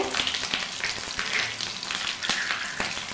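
Cumin seeds and slit green chillies fry in hot oil over medium-low heat, giving a steady close crackling sizzle with scattered pops and occasional stirring scrapes.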